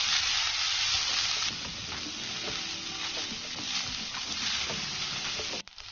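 Cooked rice frying in a pan with green peas over a medium flame for fried rice, giving a steady close sizzle with faint stirring scrapes throughout, a slightly louder burst at the start and a sharp clatter near the end.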